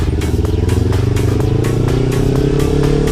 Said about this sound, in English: When it starts sounding a little bit rough, that means it needs to shift gears.